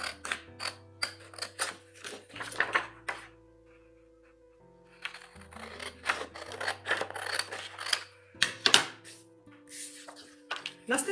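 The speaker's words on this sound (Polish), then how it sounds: "Bierzemy nożyczki." Scissors snipping out a paper square for a homemade paper pinwheel craft, a series of close, dry cutting crunches in uneven bursts with a quieter pause midway, over a soft background music bed.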